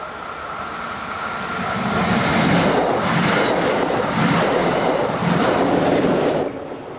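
An ÖBB class 1142 electric locomotive pulls a train into St. Johann im Pongau station in Austria, a rolling rumble with rhythmic wheel clatter that swells, holds loud for several seconds, then drops away.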